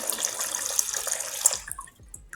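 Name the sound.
12V DC pump pumping water, relay-controlled by ESP32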